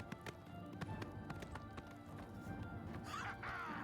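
A horse's hooves clip-clop along a road in the video game The Elder Scrolls IV: Oblivion, a quiet rhythmic tapping under faint background game ambience.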